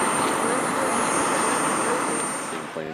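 A fast-landing airplane roars across a large paved runway, a loud broadband jet rush with a steady high whine, holding strong before easing off near the end.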